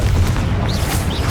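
A Confringo spell explosion in the video game Hogwarts Legacy, a single loud, close booming blast that fills the whole short moment with a rumbling roar and no speech.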